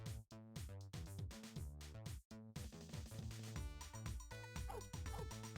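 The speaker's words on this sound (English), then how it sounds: "Oh, I can hear pup." A puppy in a low-poly video game barks repeatedly in quick yapping bursts over steady rhythmic background music, the barks clear and fairly close with short gaps between them.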